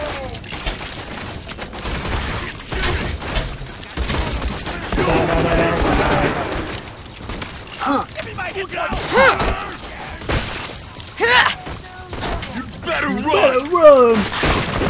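Gunfire in Borderlands 2, with bursts of automatic shots, thuds and shattering impacts scattered through a busy fight, mixed with game voices and shouted lines over the action.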